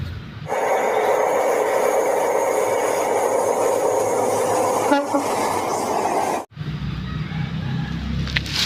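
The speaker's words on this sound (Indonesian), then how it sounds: "Wow, ini kereta api cepat teman-teman." A toy high-speed train plays a loud electronic rumble and whine of running rail noise, holding steady for several seconds before a brief cut and a lower mechanical hum.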